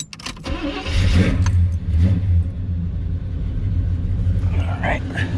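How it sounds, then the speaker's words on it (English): A 1978 Chevrolet El Camino engine cranks and catches, then settles into a loud, steady low rumble close by, with a faint higher whine rising near the end. "Start up the car here."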